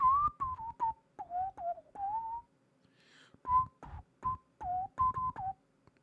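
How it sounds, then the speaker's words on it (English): The Tune of Toxic whistle in Magic Online plays as a lively melodic run of short whistled notes in two phrases, separated by a brief pause, clear and with no talking. "I think that whistle was the Tune of Toxic."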